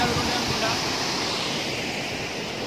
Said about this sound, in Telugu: Gundala water falls.